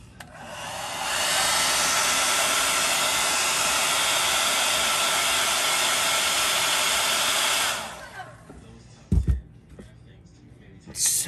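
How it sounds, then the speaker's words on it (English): A loud hair dryer roars steadily for several seconds at close range, then switches off, followed by a few quiet clicks and handling noises. "big boy hairdryer coming out to play"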